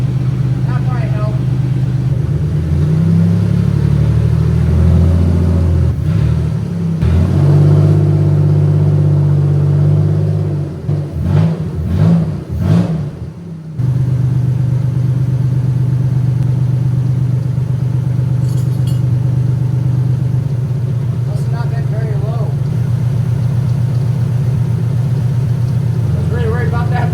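A rally car prepared for SCCA rallies starts up with a loud, shaky rumble, revs briefly, then settles into a steady, rough idle close by, with occasional voices over it.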